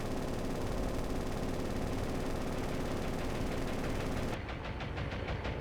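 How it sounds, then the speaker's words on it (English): Aircraft machine guns strafing a ship in the naval combat game War on the Sea: a dense, unbroken rattle of rapid automatic fire mixed with engine roar, sustained throughout and thinning slightly near the end. "I'm not sure how much ammo we still have on the machine guns."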